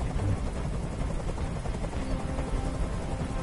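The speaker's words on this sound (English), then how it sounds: "I can't stand that noise anymore. Tell that helicopter to get out of here." A steady, loud rotor drone of a helicopter in the game Detroit: Become Human fills the whole stretch, continuous and unbroken, with no voices over it.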